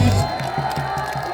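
A crowd at an outdoor presidential campaign rally in the Bucheon Station plaza cheers loudly, with rhythmic, chant-like bursts repeating steadily throughout the short stretch.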